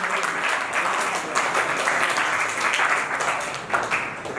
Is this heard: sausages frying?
no